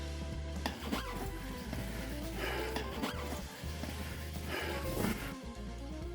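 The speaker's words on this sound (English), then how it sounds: "The zipper still works" A clothing zipper on a repaired leaky Clears garment is run open and closed several times, giving close, rasping strokes with short pauses between them, alone without talk.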